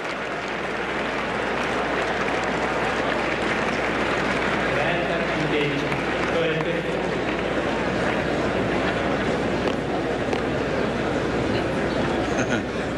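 A tennis crowd murmurs steadily throughout a Rome 2002 match between Haas and Roddick, a dense, continuous hum of many voices with no clear breaks.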